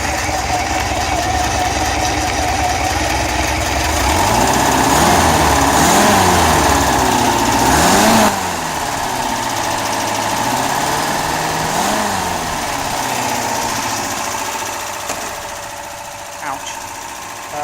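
A camper van engine idles loudly and steadily nearby with a low tick over, its revs rising and dipping slightly, with a voice talking over it at times.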